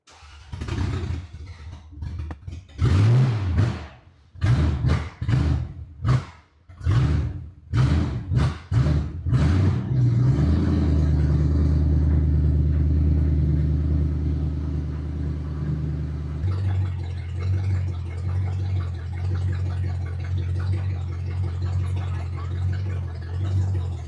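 A car that has been sitting runs roughly, its engine stumbling in uneven bursts that pulse irregularly before settling into a steady loud idle rumble, heard close with no talk.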